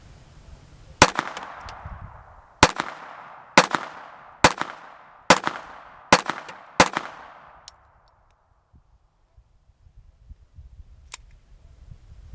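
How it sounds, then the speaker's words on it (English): Browning Buckmark Camper pistol fired at about 15 yards outdoors: seven sharp, loud single shots spaced roughly a second or more apart, each ringing out briefly, then quiet with faint handling noise. "Now we're standing out here about 15 yards, so let's give it a couple shots, see how she does."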